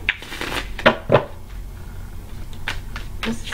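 A deck of tarot cards is shuffled close by during a reading, with a few crisp riffling bursts early on, then softer, sparser card slaps and rustles.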